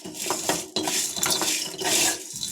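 Dry coconut pieces are stirred in a pan with a metal spoon, steady scraping and clinking over a constant sizzle, close and fairly loud with no talking.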